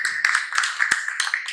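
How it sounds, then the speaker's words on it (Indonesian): Classroom applause for a student group in an engine overhaul lesson: a short burst of hand clapping from several people, brisk and uneven, close and fairly loud. "Siap, tepuk tangan untuk kelompok 2."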